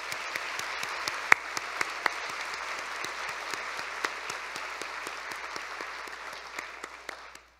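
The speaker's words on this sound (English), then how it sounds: "Let's give them another round of applause." Audience applause at a university convocation honoring scholars, steady sustained clapping from a large crowd at moderate distance, lasting throughout with individual claps occasionally standing out.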